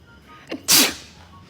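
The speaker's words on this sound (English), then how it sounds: "So today I'm gonna get her back by sneezing on her." One person sneezes as a prank on a roommate: a short breathy intake, then a single loud, sharp burst of sneeze up close, trailing off quickly into quiet.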